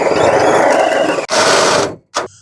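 A power drill with a half-inch bit enlarges a hole in a 1967-1972 Ford F100 hood for a safety pin kit, giving a loud, harsh grinding whine that briefly dips, resumes, stops, then gives a short final burst.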